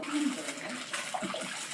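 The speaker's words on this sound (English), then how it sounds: "So if you hear all the water noises, it's because she's washing the meat." Water running from a kitchen tap while meat for menudo is washed, a faint, continuous splashing hiss with light voices in the background.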